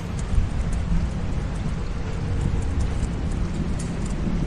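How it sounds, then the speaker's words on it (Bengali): Heavy rain pours down in a dense, unbroken roar of hissing drops, loud and constant throughout with no pauses. "একরকম আকাশ ভাঙা বৃষ্টি শুরু হলো।"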